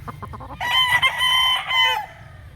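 A gamecock rooster lets out one loud, close crow lasting over a second, with a few short clucks just before it and quieter clucking as it trails off.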